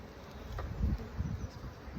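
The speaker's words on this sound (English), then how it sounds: "Lots of bees in the super." A low, faint buzzing hum of many honeybees in a hive super during an inspection, close by and continuous, with slight swells in intensity.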